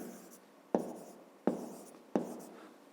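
A pen writes on paper during a fifth-grade maths exercise, giving three sharp taps spaced about 0.7 seconds apart, each followed by a short scratching trail, close and quiet.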